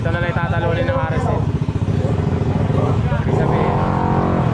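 Motorcycles racing at a drag race circuit in Batangas, Philippines, with a loud, continuous engine roar and clatter throughout, close by, under steady talk.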